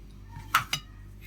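A metal spoon clinks twice against a mixing bowl while stirring cocoa powder into a chocolate cake batter of flour and sugar, two sharp close knocks over a quiet background.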